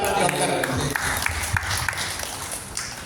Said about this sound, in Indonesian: Tepuk tangan dulu buat Pak Dokter.